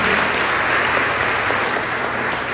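Church congregation applauding together, a dense, steady wash of clapping that fills the whole stretch at even loudness.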